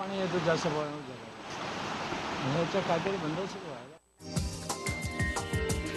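Water rushes in a loud, steady roar from a burst Bhatsa dam irrigation canal flooding a road in Shahapur, with a voice talking over it. The sound cuts abruptly into music near the end.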